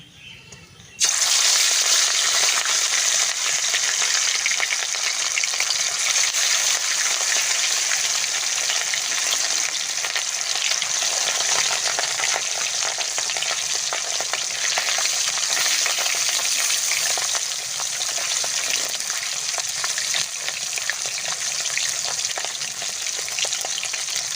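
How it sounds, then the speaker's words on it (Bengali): Loud, steady frying sizzle of rohu fish pieces in hot mustard oil, a dense continuous crackle that starts abruptly and holds at full strength throughout. "তেলটা সুন্দর করে গরম হয়ে গেছে মাছের পিসগুলো দিয়ে দেবো"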